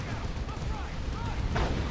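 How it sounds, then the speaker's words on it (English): Autocannon and heavy bolter fire rattle through a Dawn of War 2 battle, close and dense in a continuous barrage with sharper bursts near the end. "We do got the autocannon and the heavy bolters set up now."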